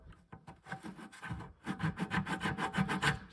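A scriber scratches a line into a plastic bucket, heard as close, quiet rubbing strokes that turn into a quick, regular series of scrapes.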